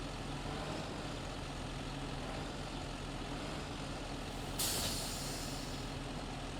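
A tractor pulling a trailer in a farming video game drives with a steady engine drone and a brief hiss of air about two-thirds through, with no one talking.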